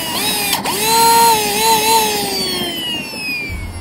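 A small electric motor in a 3D-printed car whines at a high, shifting pitch, rising then slowly falling as it strains, loud and close with a brief knock near the start.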